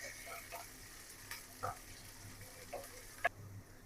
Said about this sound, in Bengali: পেঁয়াজ কাঁচামরিচ রসুন ভাজা হয়ে গেছে